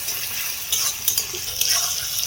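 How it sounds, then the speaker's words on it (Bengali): Steady sizzle of tomato frying in oil in a pan, with a few louder crackling bursts and a spatula stirring through it. "টমেটোটাকে দিয়েও একটু ভেজে নেব"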